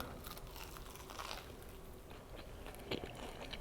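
A bite into a fried dough snack stuffed with moong dal, jaggery and coconut, heard as soft close crunching and chewing, faint and muffled, with a small crisp crack near the end and no speech.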